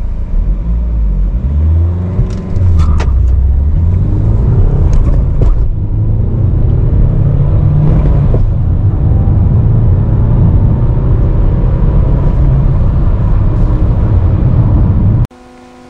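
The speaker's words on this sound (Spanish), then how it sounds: "vamos a intentar salir sin perder mucha tracción cuando aceleremos a fondo" A 2023 Citroën C3 Aircross 1.5 BlueHDi diesel engine roars and revs hard at full throttle, pulling away from a standstill with a loud, sustained rumble and rising whir that fills the whole stretch before cutting off abruptly.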